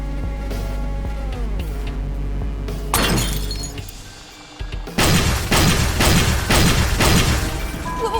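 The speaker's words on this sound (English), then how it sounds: "The explosions appear to have stopped." Explosions in the dream sequence of the video game AI: The Somnium Files, a loud shattering crash, a brief lull, then a run of heavy rhythmic booming bursts with glassy debris.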